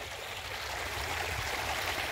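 Water gushes steadily from a half-open pipe valve into a wheat field, a continuous broadband rushing that stays constant throughout with no talk.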